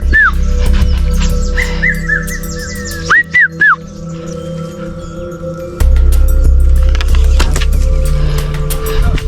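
A young hunter at a forest camp whistles to imitate a bird, giving a few short, rising-and-falling whistles over a steady low rumble and scattered clicks. The voice imitates the bird.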